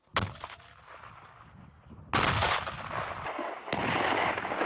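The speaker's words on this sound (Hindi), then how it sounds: "कुछ अपनी राइफल से ताबड़तोड़ गोलियां बरसाते नजर आए" Rifle volleys and mortar fire from soldiers training with heavy weapons in bitter cold: sharp loud blasts at the start, then two heavy bursts with long rumbling, crackling tails, close and dense.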